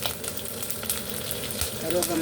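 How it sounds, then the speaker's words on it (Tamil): Mustard seeds, cumin, fennel and curry leaves frying in hot oil for a chutney tempering, a dense steady crackling sizzle with little pops, close and continuous throughout. "எண்ணெய் கொதிச்சுட்டு கடுகு, சின்ன சீரகம், பெருஞ்சீரகம், கருவேப்பிலை"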